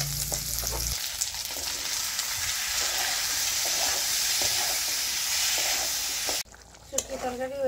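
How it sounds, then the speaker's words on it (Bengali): Dried fish (shutki) curry with potatoes cooks in oil, giving a steady, close sizzle and hiss with occasional stirring scrapes, then a sudden cut to quieter sounds near the end. "দেখো একটু জুল জুল করে রাঁধছি শুটকিটা"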